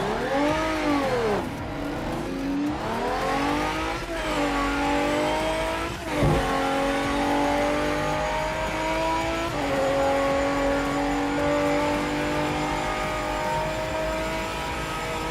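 A race car in the Project Motor Racing sim drives continuously, its engine climbing through the revs, dipping on gear changes, then pulling again at steady, close, loud volume with no voices.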